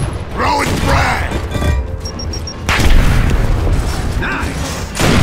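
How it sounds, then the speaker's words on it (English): A frag grenade explodes in Gears of War combat, with deep booming blasts and rumbling battle noise filling the whole stretch, with a shouted voice in the mix. "Throwing frag!"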